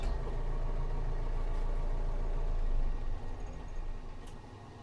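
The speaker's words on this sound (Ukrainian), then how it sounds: "трішки зменшимо оберти нашої дуйки" An agricultural sprayer's blower fan runs as a steady, loud low engine drone with a constant hum that eases off slightly near the end as the revs drop.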